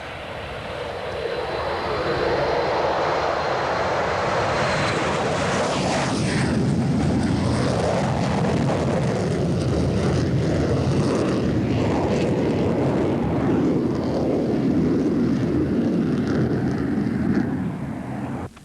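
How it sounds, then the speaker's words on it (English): Avro Vulcan XM594 jet bomber taking off for East Midlands Airport, a loud, sustained roar of jet engines that swells within the first couple of seconds and holds steady and powerful throughout, with a broad rumbling thunder and a brief rising whine early on. "the 4th of the Vulcans to leave for their final resting places took off for the East Midlands Airport"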